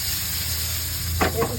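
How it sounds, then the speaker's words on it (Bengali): Food fries in a pan with a steady, loud sizzling hiss and a low hum underneath, followed near the end by a couple of brief stirring scrapes. "ফ্রাই"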